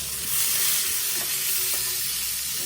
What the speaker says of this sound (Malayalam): കുറച്ച് നമ്മളിപ്പോൾ ചെയ്ത് വെച്ച ഒനിയൻ ഇടാം ഒനിയൻ ജസ്റ്റ് വാട്ടാം